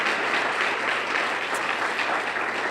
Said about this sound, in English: a big round of applause for all of our speakers this morning